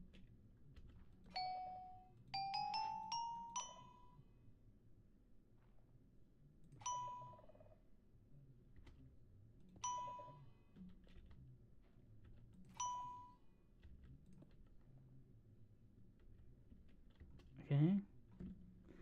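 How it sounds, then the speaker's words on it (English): A Minecraft note block placed on a gold block plays bright chime notes: a quick rising run of pings, then single chimes spaced a few seconds apart. The chimes are clear and fairly quiet, with faint clicks between them. "we're going to give it a gold block because gold creates chime noise"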